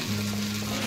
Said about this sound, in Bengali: ভেন্ডি ভাজি হচ্ছে